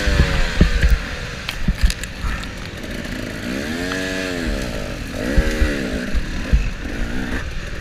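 Dirt bike engine revving hard during a harescramble race, close and loud with rising and falling revs and rattling knocks as the bike bounces over rough ground.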